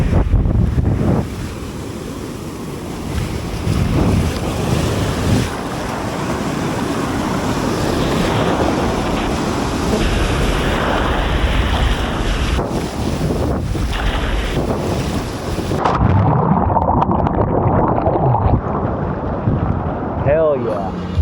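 Ocean waves wash in steadily at Lennox Head beach near sunset, a continuous broad surf roar mixed with gusty wind buffeting the microphone, easing off in the final seconds.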